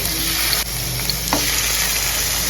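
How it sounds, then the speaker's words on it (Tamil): Seer fish fries in hot oil on a tawa over a slow flame, a loud, steady close sizzle with a couple of faint clicks and no talking. "நம்ம என்ன பண்ணுறோம் தவாவில் தாங்க வறுக்க போகிறோம் அப்படியே ஸ்லோ ஃப்ளேமில் வச்சு"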